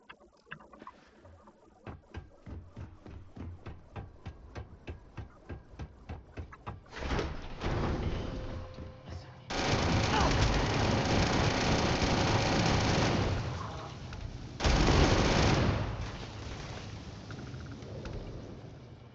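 Explosive gutbuster rounds from a modified maelstrom weapon in the game Gorefield: a quick run of rapid clicking shots gives way to heavy, roaring blasts that swell and hold, loud and dense, with no voices.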